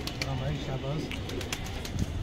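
Domestic flying pigeons coo in soft low phrases close by, while a voice talks over them.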